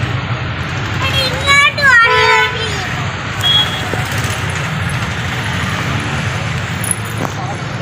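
Bustling bus stand crowded with people and buses, with a steady low engine rumble, a few short horn toots in the first seconds, and people talking throughout.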